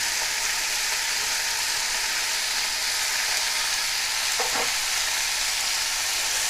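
Spinach and eggplant sizzle and fry steadily in a pan, a continuous crackling hiss, with a brief scrape of stirring near the end.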